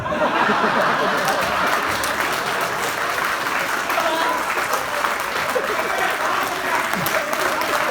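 An audience at a comedy poetry gathering in Agra claps steadily and loudly for the whole stretch, with a little laughter and murmuring mixed into the ovation.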